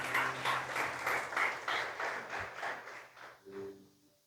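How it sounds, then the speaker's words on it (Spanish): A church congregation claps together in a rhythmic burst of applause, steady and moderately loud, fading out after a few seconds with a brief low voice near the end. "Denle ese aplauso al Señor en esta mañana."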